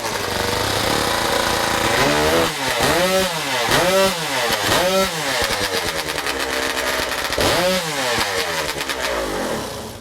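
A direct-drive professional racing chainsaw with no clutch or brake, used in timbersports competition, revs loudly and close with repeated rising and falling engine surges that whine continuously throughout.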